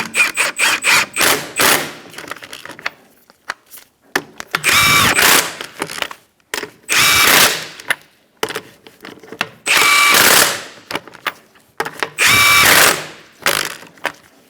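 A power tool tightens the wheel lug nuts on a 2004-2009 Mazda 3 2.3L, giving loud, close whirring bursts of a second or two each with pauses between, after some lighter clicks and handling noises.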